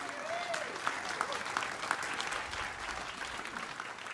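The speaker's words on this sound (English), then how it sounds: "give them an applause" Church congregation applauds veterans in a steady wash of clapping throughout, fairly dense and even, with a few voices faintly mixed in.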